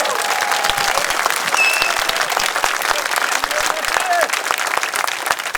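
Dense applause from an outdoor crowd at a rally in Hong Lim Park's Speaker Corner, sustained and steady for several seconds, with scattered voices mixed into the clapping.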